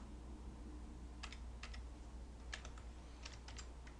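Keys on a computer keyboard tapped in short clusters of clicks during bookkeeping data entry, fairly close but quiet over a steady low hum, with no talking.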